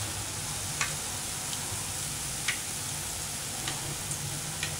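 Boondi batter drops fry in hot oil for kara boondi, a steady hiss of bubbling with faint crackles and a few soft ticks of a ladle, close and continuous.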